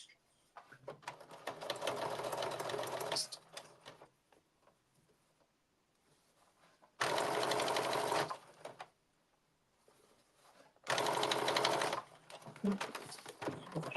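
A sewing machine stitches a blazer in three separate runs, close and steady, each lasting a couple of seconds with quiet pauses between them.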